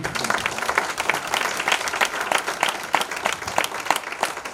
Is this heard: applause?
yes